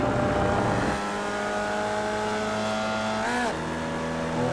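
Formula Vee race car in iRacing, the engine holding a steady high drone, dropping off briefly as the throttle lifts, then climbing again with a rising sweep in pitch.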